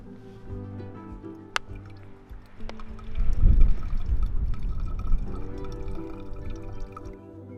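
Water from a back-flushed backpacking water filter and its filled bag drips and trickles at close range outdoors, starting as a few sparse drops and building into a steadier, louder pouring flow midway.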